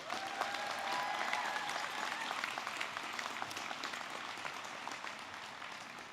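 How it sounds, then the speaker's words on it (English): Sustained applause from a large audience at a university commencement ceremony, steady and broad throughout, fading only slightly toward the end, with faint voices mixed in. "Let's give everybody who made this day possible a big round of applause."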